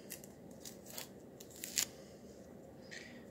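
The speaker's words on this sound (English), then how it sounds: "I'm just peeling this orange." An orange being peeled by hand, fingernails digging into the rind, giving soft tearing and crackling rips in short bursts, close and quiet with no talk.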